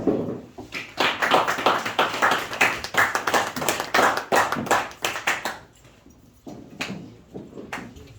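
An audience at a French-language sermon for young people claps together in a steady, brisk rhythm that fills the room, then thins out and fades to scattered claps toward the end.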